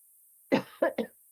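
Three quick coughs close by, one stronger cough followed by two shorter ones.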